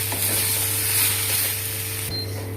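Tomato, capsicum, curry leaves, salt and turmeric sizzle in a hot pan, a continuous close crackling hiss with a faint low hum underneath and no talking.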